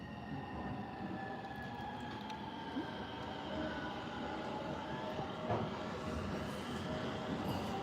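Japanese commuter train riding from Ikebukuro to Kumagaya, a steady interior rumble of wheels on track with faint whining tones and light rattles throughout, continuous and close.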